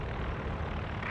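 Propeller aircraft drone steadily overhead in a Company of Heroes 2 match, a continuous broad engine roar with no breaks.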